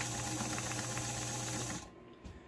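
White 764 sewing machine stitching in reverse, a steady close whirring hum with a fast needle patter that runs for under two seconds and then cuts off, leaving near quiet.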